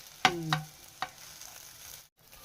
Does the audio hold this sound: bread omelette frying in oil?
yes